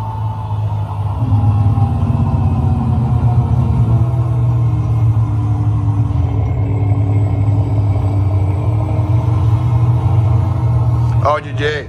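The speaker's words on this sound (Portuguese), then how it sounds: "Olha o freio motor." A truck's engine brake holds a loud, steady, low rumbling drone with a harmonic buzz for the whole stretch, close by, with voices talking over it.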